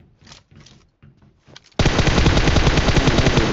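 Automatic gunfire in the PUBG Mobile shooter game erupts abruptly after a few quiet muffled sounds, a loud continuous rapid burst of shots close up.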